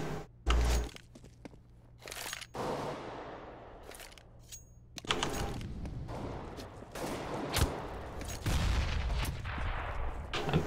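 SCAR 20 rifle fire in the video game Counter-Strike, heard as several sharp, loud shots spaced seconds apart and mixed with in-game impacts and footsteps, close and punchy.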